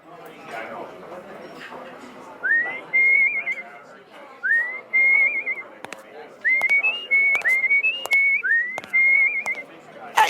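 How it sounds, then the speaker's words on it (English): A person whistles a short, repeated tune of rising, sliding phrases, loud and close, with pauses between bursts over a faint background of room noise. "that tune that you're whistling there"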